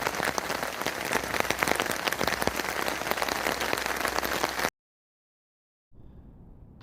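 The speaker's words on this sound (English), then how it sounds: "As you can hear, it's raining" Steady heavy rain patters loudly and densely on a Husky tent for several seconds, then cuts off abruptly into silence before a faint hiss returns.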